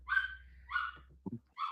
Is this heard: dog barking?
yes